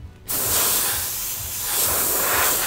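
Aerosol spray can misting paint onto parts of a Tamiya Volvo FH12 1/14 scale RC truck kit, a loud continuous hiss starting abruptly and holding steady, close by.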